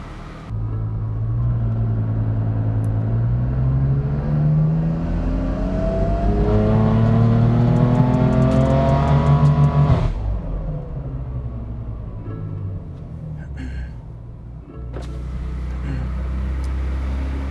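A BMW M3 F80 tuned toward 1,000 hp revs hard on a dyno, rising in a loud, climbing roar for several seconds before cutting off abruptly into a lower idle rumble, with faint clatter afterward.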